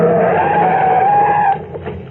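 A car skids hard to a stop with a loud, sustained tire squeal lasting over a second, then cuts off into quieter scraping and rumble.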